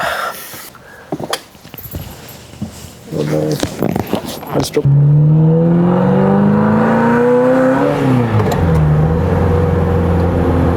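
Rattles and clicks of handling give way to a car engine running as it warms up, with oil just over 60 C. The steady drone climbs gradually in pitch, then dips and settles.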